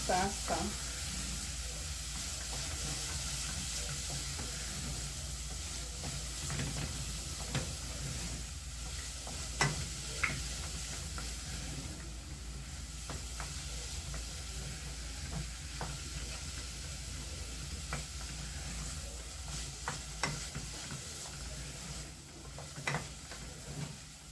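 Matoke and beef stew cooks in a sufuria, a steady low sizzle running throughout beneath scattered scraping and clinking strokes of a stirring spoon against the pot, quiet and close.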